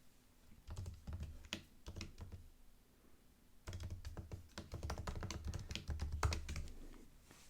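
A command being typed on a computer keyboard, with rapid, close key clicks in two bursts separated by a short pause and ending in heavier taps.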